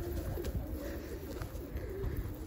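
Pigeons coo softly near a loft just after one has been caught by hand, low murmuring calls over a constant muffled background, close and continuous with no talking.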